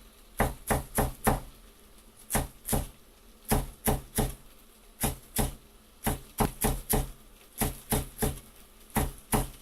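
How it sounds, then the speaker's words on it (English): A knife chops cilantro on a board in quick bursts of three to five sharp, close strikes separated by short pauses, with no talking. "these cilantro, you want to chop them into tiny, tiny, tiny pieces"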